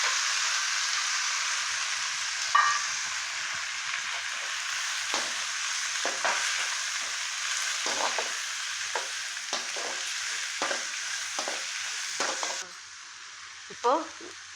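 Onions and mint sauté in a pan for carrot rice, with a continuous close sizzle broken by repeated scrapes and taps of a spatula and no talk.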